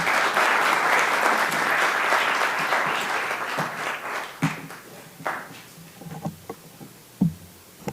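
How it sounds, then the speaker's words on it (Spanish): Loud, dense audience applause fills a hall at a book launch event as Ángel Cisneros is welcomed, then thins out into scattered individual claps. "Fuerte aplauso a Ángel Cisneros,"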